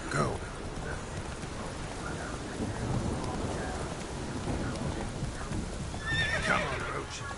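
A horse gallops in The Witcher 3 beneath a rainy thunderstorm, hoofbeats blending into steady storm noise with a neigh near the end, and a voice speaks over it.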